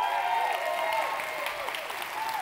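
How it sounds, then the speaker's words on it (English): A crowd gives a round of applause at a Tranont event, a broad, steady wash of clapping with a sustained tonal hum or music running beneath it. "we have to give them a round of applause"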